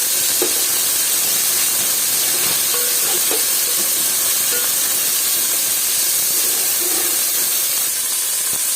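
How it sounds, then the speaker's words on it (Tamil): Onions with chopped coriander and mint leaves sautéing in a pan for a mutton keema biryani, a steady close hiss and sizzle running throughout with a few soft stirring clicks. "கொத்தமல்லியும் புதினாவும் கட் பண்ணது சேர்த்து வதக்கிக்கலாம்."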